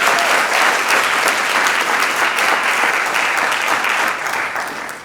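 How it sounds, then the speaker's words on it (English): Loud, dense applause from the audience at a youth business awards ceremony, a continuous roar of many hands clapping that holds steady for about five seconds before beginning to fade. "Can we please give everyone behind this a big round of applause?"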